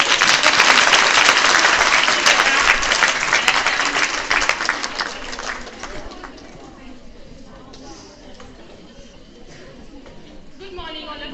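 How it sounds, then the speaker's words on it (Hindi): At a school event in Gangwa, an audience gives loud applause that is dense and close at first, then thins and fades over several seconds, leaving quieter room noise with a faint voice near the end. "जोरदार तालियों से"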